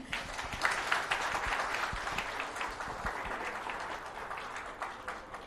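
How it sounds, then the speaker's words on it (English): An audience at a government presentation event gives a round of applause after a speaker finishes: sustained, dense clapping of moderate loudness that tapers slightly toward the end, with no voices. "Big round of applause for him."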